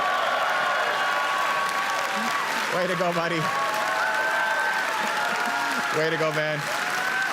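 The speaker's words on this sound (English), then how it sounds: "Give them a big round of applause." Sustained applause from a large Conservative Party convention crowd fills the hall, with voices shouting encouragement over the clapping.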